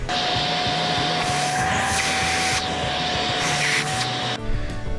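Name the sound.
vacuuming out a drilled hole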